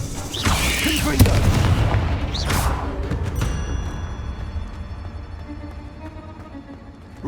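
A Confringo spell blast from Hogwarts Legacy, a booming fiery explosion with crackling mechanical rattles, loud and close, fading into a softer rumbling tail, with a voice speaking briefly.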